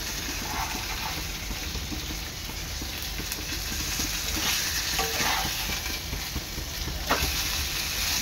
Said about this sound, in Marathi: हे पहा, एक 5 मिनिटांनी अशी दोन्ही पापलेट चांगली तळून झालेली आहे